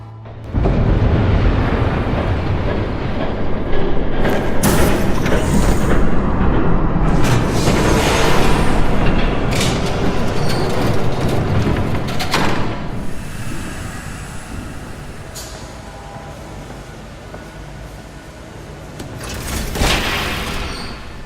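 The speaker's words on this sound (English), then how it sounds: "There's a train coming." Train approaching in the Batman: The Telltale Series video game, a broad rumbling roar with hiss that builds and rolls on steadily, loud throughout, with no talking.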